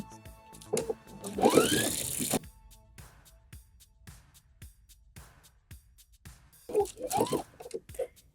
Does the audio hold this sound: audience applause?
no